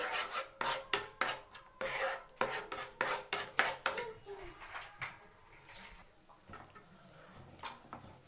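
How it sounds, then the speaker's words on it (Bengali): Sweet chocolate filling for patisapta pancakes being stirred continuously in a pan over low flame gives rhythmic scraping and rasping strokes, quick and regular at first, then slower and softer. "এরকম অনবরত নাড়তে হবে নইলে কিন্তু কড়াতে লেগে যাবে"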